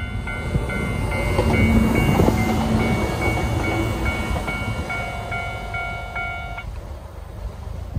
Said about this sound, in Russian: Вот, смотри, какой поезд еще едет, Дэнни, видал?